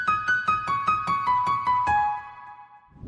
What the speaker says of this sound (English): I added these top keys, which sound like this.